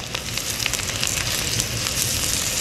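Potatoes frying in a pan, sprinkled with salt, give off a dense, continuous sizzle with fine crackles, close and loud throughout, and no one speaks.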